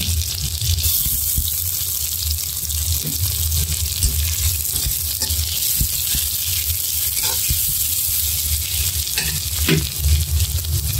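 Onion frying in oil in a pan for a Bengali pangas fish roe curry, a steady close sizzle running throughout with occasional stirring clicks and light water splashes.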